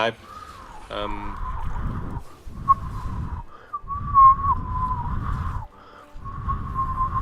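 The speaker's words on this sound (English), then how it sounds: "Do that motion, and then you'll be able to whistle." A person whistles a steady, sustained tune in short phrases, with gaps between them and a low hum or voices underneath, fairly close and moderately loud.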